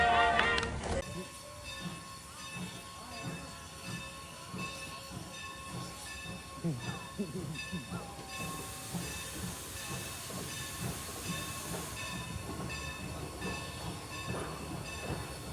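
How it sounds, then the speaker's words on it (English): Strasburg Rail Road train pulling in, heard as a moderate hiss and a low rumble with tonal whistle-like hums and faint clanks, steady and fairly close, with no talk. "Here comes the train"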